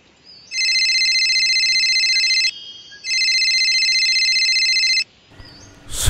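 A telephone rings early in the morning, two long electronic trills separated by a short pause, loud and close in a quiet room, followed by a brief rustle.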